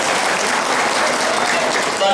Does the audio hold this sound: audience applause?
yes